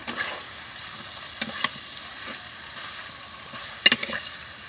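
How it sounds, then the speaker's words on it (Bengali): Mango pieces stirred into a frying spice paste with sugar for mango pickle give a constant hiss and sizzle, punctuated by occasional spoon scrapes and a quick cluster of clinks near the end. "এখন আমগুলো দিয়ে দিচ্ছে মশলাটার সাথে ভালোভাবে আমটা মিক্স করে নেবে"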